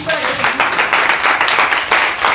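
A church congregation applauds Jesus Christ, steady mixed clapping and voices throughout, with a speaker's voice heard briefly at the start.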